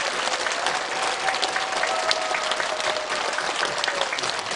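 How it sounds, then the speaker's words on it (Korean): An audience at a Buddhist dharma talk hosted by a monk claps in sustained, even applause that fills the whole stretch, loud and dense with no break. "그분들에게 박수 주십시오."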